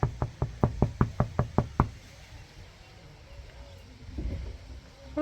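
Around nine sharp, evenly spaced knocks on a surface at a meerkat enclosure with white meerkats, close and loud, followed by quiet rustling and faint movement.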